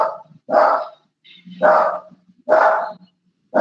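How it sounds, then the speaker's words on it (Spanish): A female dog barks in loud, repeated bursts about once a second while chasing a cat, with brief whimpers between the barks. "mi perro está, bueno, de hecho es perra, está persiguiendo un gato"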